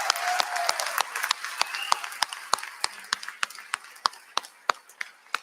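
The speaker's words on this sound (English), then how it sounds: "We just got to give one more round of applause." An audience at an Ignite Annapolis speaker event gives a round of applause, broad clapping at first that quickly thins to a few scattered, sharp individual claps.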